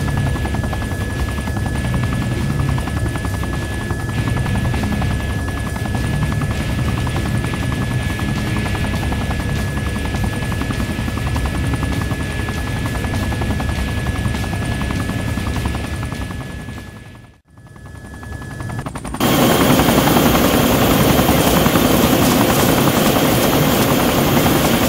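A helicopter setting down in a clearing in the video game ArmA 2, a loud, continuous rotor thrum and engine whine that cuts out briefly before resuming louder and brighter; no voices.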